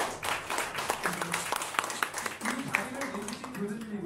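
Applause for Professor Lee Bo-reum at an art program event: a moderate patter of clapping with people talking over it.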